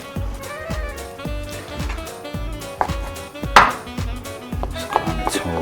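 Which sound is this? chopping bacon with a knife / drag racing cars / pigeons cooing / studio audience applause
chopping bacon with a knife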